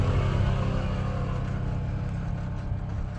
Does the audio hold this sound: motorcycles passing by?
yes